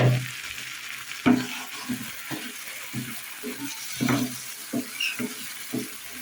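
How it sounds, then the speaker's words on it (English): Thick masala paste sizzles and splutters in a hot pan, with irregular scraping stir strokes and soft knocks of a spoon at a steady working pace. "fry the masala for around 3 to 4 minutes"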